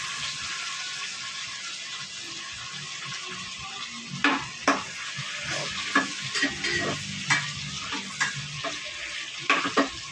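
Chopped onions and small tomatoes sizzle steadily in a hot pan, with a utensil stirring and scraping against the metal at irregular intervals. The frying hiss stays close and continuous throughout.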